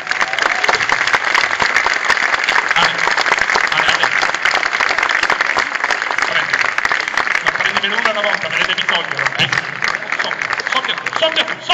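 A crowd at a street busker festival in Chieti breaks into sustained, dense applause that stays loud throughout, with voices and cheers mixed into the clapping.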